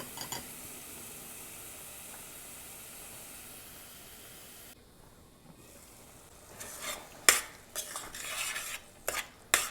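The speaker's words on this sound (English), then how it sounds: "I'm going to mix it. I'm going to allow it to cook for about a minute on low temperature." Palak paneer made with frozen spinach gets stirred in a pan on low heat: a soft steady sizzle gives way to louder scraping and clinking of a utensil against the pan in close, irregular strokes, with no speech.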